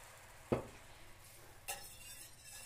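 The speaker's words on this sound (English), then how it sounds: "you're just gonna stir that around, and what's gonna happen is your gravy's gonna start to get thicker" Gravy being stirred in a pan: a spoon gives one sharp scrape against the pan and a later softer one over a faint steady background, quiet and close with no talking.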